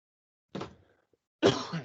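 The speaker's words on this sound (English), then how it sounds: "I have a cough" Two close, rough coughs are separated by a short silence, the second one louder and longer.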